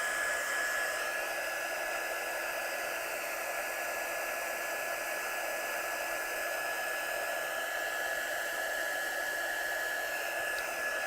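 A hair dryer blowing steadily to dry ink on a stamped handmade card, a loud, constant whooshing roar with a faint high whine, unbroken throughout and without talk.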